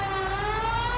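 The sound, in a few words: police car siren in video game L.A. Noire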